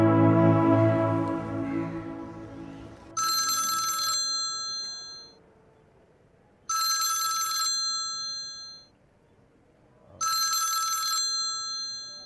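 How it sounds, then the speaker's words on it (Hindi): A phone rings with an incoming call: three loud bursts of a bright electronic bell, each about a second long and separated by silent gaps, heard alone with no talk, in the middle of a drama scene. "ये आपके नंबर से फोन आ रहा है।"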